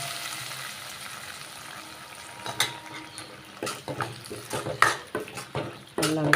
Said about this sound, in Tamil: இப்போ தாளித்ததை கேரட் பச்சடி சேர்த்துக்கிறேங்க.